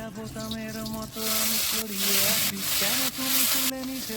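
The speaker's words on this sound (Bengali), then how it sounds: "আমার মাছগুলোতে নুন হলুদ দিয়ে ভালো করে মেখে ভেজে নেবে কড়াতে তেল দিয়ে" Katla fish sizzles in oil in a wok, with loud surges of hissing frying in bursts between quieter moments, close up, while a tonal hum or voice runs underneath.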